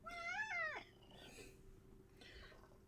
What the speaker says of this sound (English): Name the cat. The cat is called Tom.